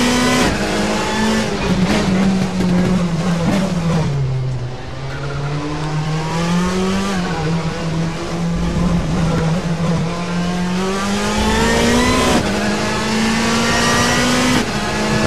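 A Citroën C-Elysée racing car engine in the RaceRoom Racing video game revs loudly and steadily, its pitch rising and falling as it accelerates, with occasional tire squeal, close and continuous throughout.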